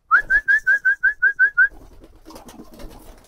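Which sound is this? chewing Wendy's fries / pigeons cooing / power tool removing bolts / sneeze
pigeons cooing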